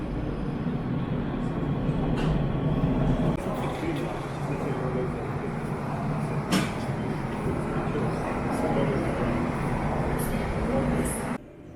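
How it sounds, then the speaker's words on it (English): A train rumbles steadily into a station with a low mechanical drone and occasional clanks, while people chat in the background. "So the train's there now."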